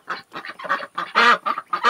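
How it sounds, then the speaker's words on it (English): Ducks quack loudly and close by in a string of separate honking calls with short gaps between them. "Good morning, ducks."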